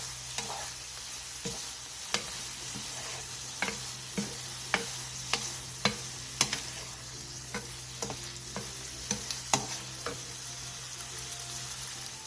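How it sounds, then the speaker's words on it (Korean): Sesame oil and sesame seeds are lightly stirred into a tofu stir-fry, a soft sizzle running throughout with a dozen or so sharp spatula ticks against the pan at irregular intervals, no voices. "참기름 1티스푼과 통깨를 넣고 가볍게 뒤적여 마무리해주세요"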